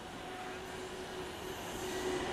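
A train passes through South Hampstead station without stopping, giving a steady, broad rushing rumble with a faint wheel squeal. It holds even and grows slightly louder toward the end.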